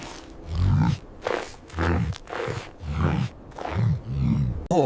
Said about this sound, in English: It's a camel.